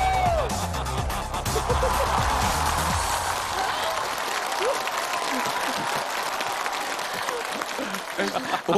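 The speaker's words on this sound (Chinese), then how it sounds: "再次把掌声送给钟齐鑫" A studio audience on a televised stunt-challenge show bursts into dense, sustained applause, loud and continuous throughout, with a voice calling over the opening seconds.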